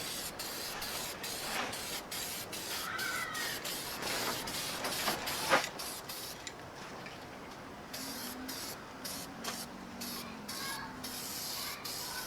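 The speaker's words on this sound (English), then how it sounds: "I gave it a decent coating on the bumper with the rust encapsulator." Rust encapsulator sprays from an aerosol can onto a Jeep XJ rear bumper outdoors, coming as a series of hissing bursts broken by short pauses.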